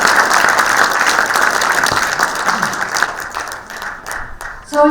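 Loud, sustained applause from an audience at a healthcare forum and seminar, dense even clapping that eases slightly toward the end before a brief tonal sound cuts in.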